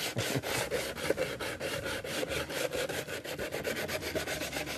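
Steady, rhythmic back-and-forth rasping of sandpaper on a wooden slatted planter, close and continuous with regular strokes, no voices.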